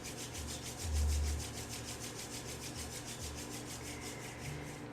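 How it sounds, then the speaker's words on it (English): Palms rubbed together in front of the chest at the end of a Kundalini yoga session, giving a steady, close, even swishing friction with a faint low hum beneath. "rubbing the palms together in front of the heart"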